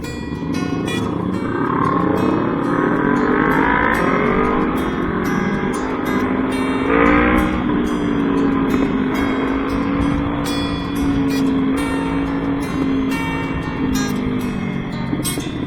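A Kawasaki NK400 motorcycle engine drones loudly and continuously while riding through traffic, its pitch rising and falling with throttle changes and a brief surge partway through, heard up close with wind noise.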